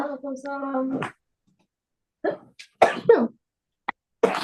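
A person sneezes in a quick, sharp burst or two after a brief spoken greeting, followed by short vocal noises in an otherwise quiet room.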